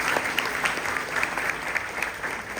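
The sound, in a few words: audience applause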